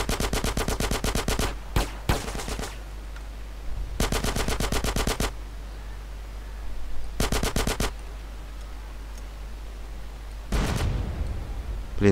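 Bursts of rapid automatic gunfire in the video game GTA San Andreas rattle in several separate volleys, each a second or so long, with quieter background hum between them.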